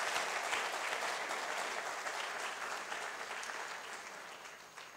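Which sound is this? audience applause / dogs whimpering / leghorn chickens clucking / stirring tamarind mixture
audience applause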